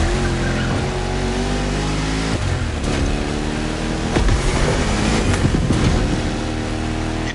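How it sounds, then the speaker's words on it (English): A 1969 Mustang Boss 429 in The Crew Motorfest video game, its big engine roaring loud and steady at high revs, with tire squeal and skidding bursts breaking through midway, close and continuous without talk. "You're driving my #1 car, the star of my collection, the 1969 Mustang Boss 429"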